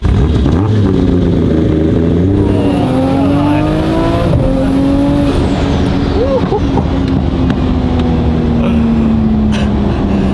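A loud, roughly 700 hp Nissan Skyline R33 GT-R with paddle shifting revs and climbs through the gears, pitch rising then dropping at each shift, heard from the passenger seat with steady road roar.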